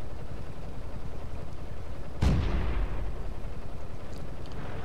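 A single cannon shot rings out in World of Tanks during a tier 1 battle with the T1 Cunningham, as a sudden loud boom whose echo fades over a steady engine rumble.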